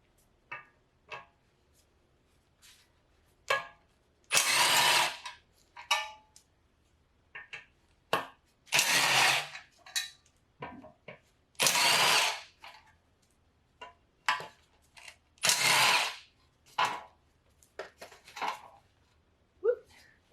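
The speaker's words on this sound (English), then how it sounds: "I'm gonna take off the 4 bolts here" A power tool removes the four brake backing plate bolts on a 1992 Honda Civic hatchback, running in short loud bursts separated by quiet gaps and small clicks, close by.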